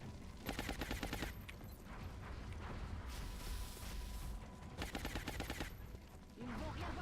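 Sustained bursts of rapid automatic gunfire from a shredder gun laying down suppression in the strategy game XCOM Long War, two dense rattling volleys separated by steady battle din.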